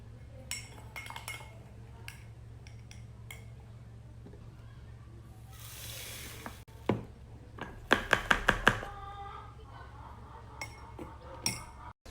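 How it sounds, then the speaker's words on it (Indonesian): A tablespoon of yeast is spooned through a funnel into an empty bottle: soft rustling, then a quick run of bright metal-on-glass clinks near the end, close and fairly quiet. "masukkan ke dalam botol kosong 1 sendok makan ragi"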